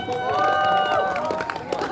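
An audience at a small concert applauds and cheers, a short burst of clapping mixed with crowd voices that swells and then thins out.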